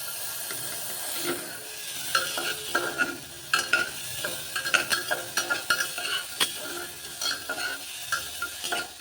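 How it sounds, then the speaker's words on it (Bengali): Vegetables are stirred and fried in white cooking oil for a chicken soup, with a constant sizzle and repeated scraping, clacking strokes of a utensil against the pan at close range; no talking. "তো প্রথমে আমি সবজিগুলোকে দিয়ে ভালোভাবে একটু নাড়াচাড়া করে নেব।"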